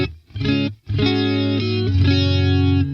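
Sustained electric guitar chords through a compressor effect on a Boss Katana MK2 amp ring out, evenly compressed with long smooth sustain after a brief opening stab and pause.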